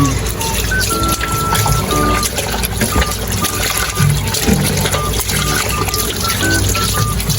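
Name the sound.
washing food with running water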